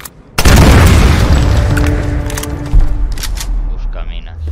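An explosive charge blows up after being hit by a shot in the PC game Tomb Raider, a sudden loud boom with a long rumbling tail and a second thud near the end.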